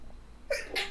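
A single quick sneeze, sharp and close, in an otherwise quiet room.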